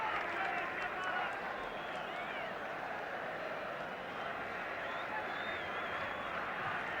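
A tremendously noisy football crowd in a stadium at the 1977 British Home Championship match between Northern Ireland and England, a steady dense roar with whistles and shouts rising through it.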